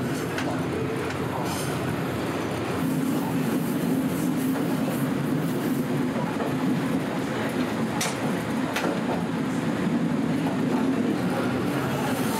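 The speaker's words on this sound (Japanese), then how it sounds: "しばし列車の旅をご堪能いただきたい。" Aboard a train travelling through the Taiwanese countryside toward Shifen station, wheels and carriages give a continuous rolling rumble with light clatter and occasional brief squeaks, and no one speaks.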